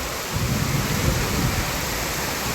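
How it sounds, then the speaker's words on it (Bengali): Heavy rain pours steadily during a sudden afternoon downpour, a dense, unbroken wash of noise that stays loud and close throughout, with no voices over it. "অনেক বৃষ্টি হচ্ছে"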